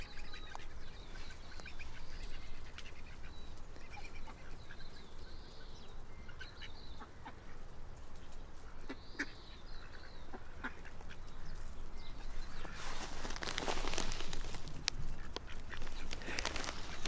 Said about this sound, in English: seeing an excited duck running up with his wings flapping